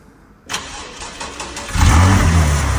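A Porsche 911 engine cranks and catches, then settles into a loud, deep idle that swells as it revs, close by with no voices.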